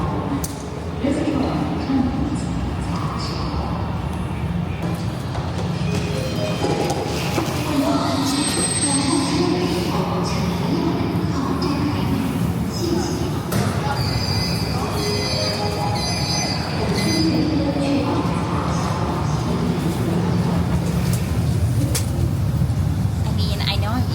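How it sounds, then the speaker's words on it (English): A Beijing metro train pulls into a station with loud, sustained wheel squeal and rumbling rail noise filling the whole stretch, while a person talks over it. "Here comes the train."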